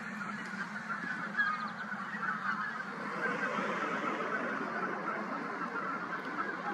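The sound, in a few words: geese honking in a field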